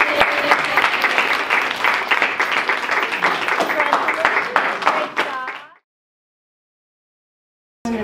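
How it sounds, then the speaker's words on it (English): An audience at a school student-recognition event gives a big round of applause, loud dense clapping for nearly six seconds that stops abruptly into silence. "let's give a big round of applause"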